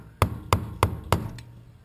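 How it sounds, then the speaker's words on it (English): Four sharp metallic hammer taps land at even intervals on the fuel pump lock plate of a 2002 GMC Yukon XL 5.3L flex fuel, close and loud, followed by a fainter fifth tap. "take a hammer and just give it a couple little taps and it should twist the plate"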